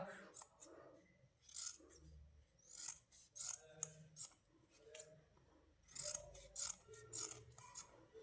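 Scissors cut material into small pieces in repeated bursts of crisp snipping, each cut a short sharp metallic slice, close and fairly quiet with pauses between strokes.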